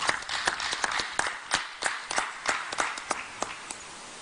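Audience applause at an annual members' meeting of a savings fund, a moderate, steady patter of many hands clapping in a room, with a few sharper individual claps standing out, no voices over it.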